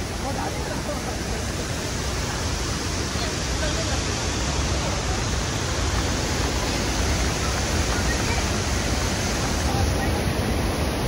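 The flooded Jaldhaka river rushes in a heavy flood, a loud, unbroken roar of churning water that fills the whole stretch without pause.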